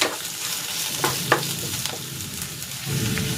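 Garlic, onion and the white part of onion leeks sizzle and fry steadily in a pan, with a few sharp stirring knocks from a utensil and a slight rise in sizzle toward the end.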